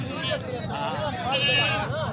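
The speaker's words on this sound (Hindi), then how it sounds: "और तीसरे नंबर पे ये वाली बकरी है" Goats bleat repeatedly at close range in a pen, wavering calls overlapping one another beneath someone speaking.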